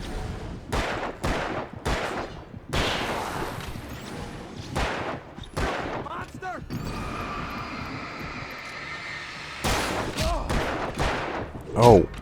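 Gunfire in the video game Alan Wake comes as a series of sharp, loud shots spaced irregularly across the scene, with a droning engine-like hum in the middle stretch and voices talking between shots.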